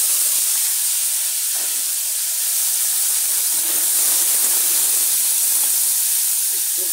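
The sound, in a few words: onion and ginger paste sizzling in hot frying oil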